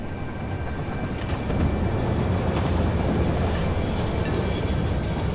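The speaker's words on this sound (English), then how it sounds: "Here's our train." A train arrives in a factory-building video game, a steady loud rumble and rolling clatter that swells slightly as it comes in and holds continuously.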